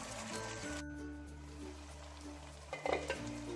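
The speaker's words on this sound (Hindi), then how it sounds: "5 से 7 मिनट हो गए इसको पकते हुए, और कितनी ज़बरदस्त ये खड़ी खड़ी भिंडी बनी है" Okra masala with green chillies, salt and tomatoes sizzles quietly in a pan, a soft continuous fry with a faint low hum and a brief clatter near the end.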